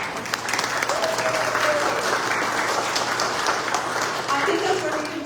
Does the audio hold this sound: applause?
yes